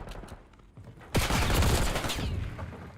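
A sudden loud eruption of automatic gunfire in a competitive Call of Duty match at a LAN playoff event, bursting in after a quiet moment and rattling on steadily to the end.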